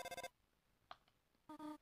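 A telephone in the video game Deltarune rings in two short electronic bursts separated by a quiet gap, clear and close.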